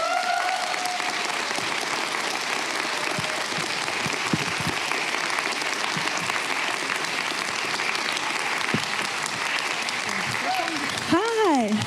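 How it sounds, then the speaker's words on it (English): A convention hall audience at Comic Con Baltics 2023 applauds actress Anna Shaffer with sustained, dense clapping that holds steady and loud for a long stretch, with a voice briefly over it at the start and end. "Please give a huge, and I mean huge, round of applause for the actress Anna Shaffer"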